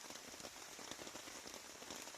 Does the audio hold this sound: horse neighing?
no